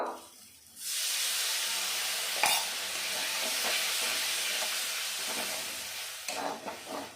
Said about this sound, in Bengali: আমি সব মশলাগুলো ভালোভাবে কষিয়ে নিয়েছি দেখুন মশলা থেকে তেল ছেড়ে দিয়েছে